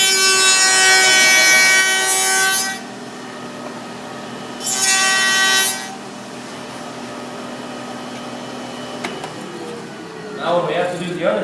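Machine cutting along a wooden door rail held against a fence, a loud broadband whine for about three seconds, then a second shorter pass, with talking and workshop handling noises between and after.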